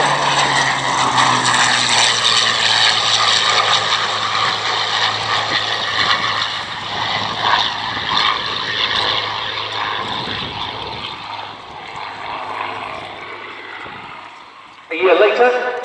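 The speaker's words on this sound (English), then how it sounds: "Mark 1A Sea Hurricane, the first kill of a Focke-Wulf FW200 Condor maritime aircraft in the North Atlantic by a hurricane" A Mark 1A Sea Hurricane propeller fighter flies past at an air show, its steady piston-engine drone loud and sustained for the whole stretch, fading slightly near the end, with a commentator's voice over the top.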